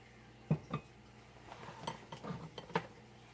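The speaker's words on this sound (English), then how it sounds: "Now we're going to beat in the salt" Salt being beaten into thumbprint cookie dough with a utensil in a bowl, heard as a handful of soft, close clinks and dull knocks spaced irregularly over a quiet room.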